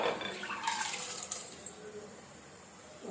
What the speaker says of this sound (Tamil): இதை அப்படியே எடுத்து ஒரு பாத்திரத்தில் மாற்றி ஒரு 2 தடவை அலசி எடுத்துகிட்டு வந்துடுறேன்